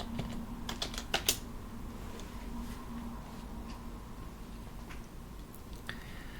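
A few quick keystrokes on a computer keyboard while a command is entered on a Linux system, clustered briefly near the start and quiet over a steady background hiss, followed by scattered faint clicks.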